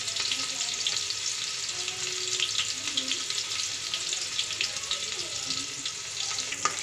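Onions fry in a pan for a cumin-flavoured lauki dish, giving a loud, continuous sizzle with faint crackles and occasional stirring scrapes, close and unbroken.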